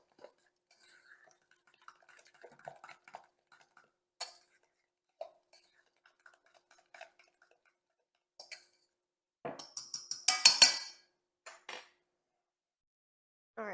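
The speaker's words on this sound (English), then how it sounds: "Just give that a mix." A spoon clinks and scrapes against a bowl as vegan batter with buttermilk and vanilla is stirred, with sparse soft taps building to a brief burst of quick, louder clatter near the end, and no talking.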